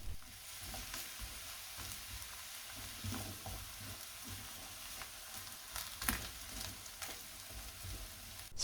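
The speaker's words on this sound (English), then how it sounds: "Check the oil is hot, then pop all the aubergine sticks in" Aubergine sticks fry in hot oil with a steady, faint crackling sizzle and occasional soft stirring clicks throughout.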